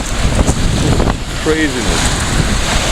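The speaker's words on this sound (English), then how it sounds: "As you can see, the waves are just still coming." Strong wind buffets the microphone while waves slap and churn around a canoe on a river between Twin Bridges and Helena, a loud, roaring, continuous wash; someone speaks briefly over it.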